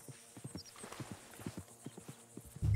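Horse hooves clip-clop in Red Dead Redemption 2, a quick run of sharp hoof strikes in uneven rhythm, moderately close, ending in a louder thump.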